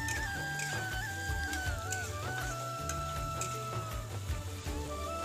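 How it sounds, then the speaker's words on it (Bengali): Onions frying in a pan for chital fish curry, a steady soft sizzle under background music. "তো পেঁয়াজটা আমি ভালো করে ফ্রাই করে নিব"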